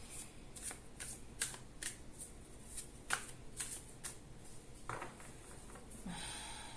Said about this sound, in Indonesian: Saya mau narik 4 kartu nih tiba-tiba.